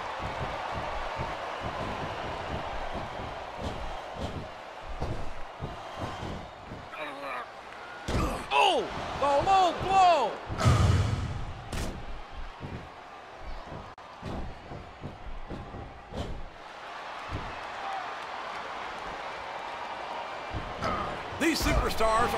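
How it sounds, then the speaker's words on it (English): A WWE professional wrestler slammed onto the ring mat during a Backlash 2008 match between two wrestlers, a heavy thud set among crowd noise and a commentator's steady talk, with several impacts rising over the arena din. "A stunning slam knocking the wind out of his opponent."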